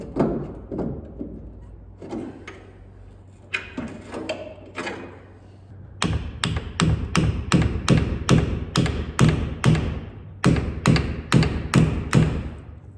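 A screwdriver works at a tight steering part on a BMW E36 during a steering rack replacement, giving sharp metallic taps and thuds. Scattered knocks come first, then a steady run of loud, evenly spaced strikes with a brief pause near the end.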